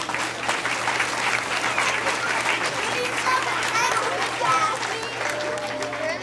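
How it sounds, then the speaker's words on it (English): An audience at a school spring concert at Westbrook Park applauds steadily and loudly for the full stretch, a dense wash of clapping with occasional children's voices and cheers mixed in. "give them another round of applause"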